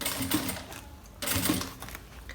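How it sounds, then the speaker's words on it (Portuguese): Sewing machine running in two short bursts, stitching around the edge of a luxury backpack panel with a stiffener inside; close, steady mechanical whirring with a brief pause between runs. "Agora, é só passar a costura aqui na volta toda da peça, com muito cuidado."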